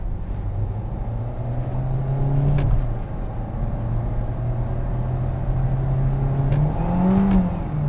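A 2022 Kia Seltos in manual drive mode accelerates hard toward redline, its engine droning and rising in pitch, easing briefly, then climbing again, heard from inside the cabin with no talking.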